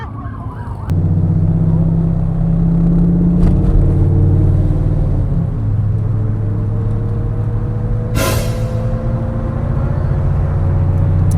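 Supercars including a Porsche GT3, a Lamborghini SVJ, Audi R8s and an STO pull away from a car meet, engines droning loud and close with rising revs and a brief sharp burst near the end, no talking.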